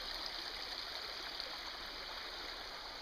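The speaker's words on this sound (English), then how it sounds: "There's another nice little brook." A small brook flows steadily in a meadow beside an overnight hiking trail, a continuous soft rush of water with no voices, moderately close and even throughout.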